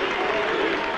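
A rugby stadium crowd at a 1989 Neath versus New Zealand All Blacks match, cheering a successful penalty goal: a steady, loud wash of cheering and applause filling the whole moment.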